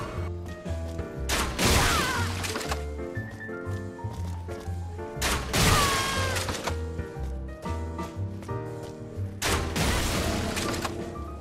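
Crossbow bolts land as headshots on an enemy in Elden Ring, a few heavy impact bursts spaced several seconds apart over a busy game soundscape.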